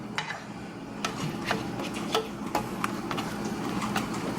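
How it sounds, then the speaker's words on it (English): Meatballs simmering in warming pasta sauce while being stirred, with soft scraping and occasional clinks of a utensil against the pot over a low bubbling bed, no talking. "I dump the meatballs into the sauce"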